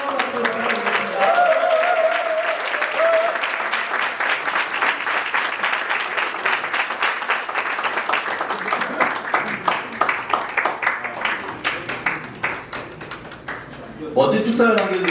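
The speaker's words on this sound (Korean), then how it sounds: "다시 한번 소중한 박수 부탁드리겠습니다" A large audience applauds at the 60th anniversary ceremony of a Korean university rowing club, with sustained, dense clapping that continues for about fourteen seconds and fades toward the end, where a speaker's voice returns.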